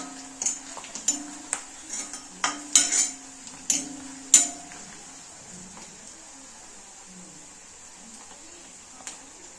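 A metal spoon clinks and scrapes in a pan while spices are tempered for kira sambar, with a run of sharp knocks over a faint sizzle that fades to quiet.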